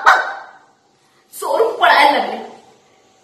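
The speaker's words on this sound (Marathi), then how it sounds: "गरीब मुलाचा कुत्रा त्यांच्या मागे धावायला लागला आणि जोर जोरात गुंकायला लागला" A dog barks loudly while chasing thieves: a short bark-like burst, then a pause, then a longer, louder run of barking and yelping, all close to the microphone.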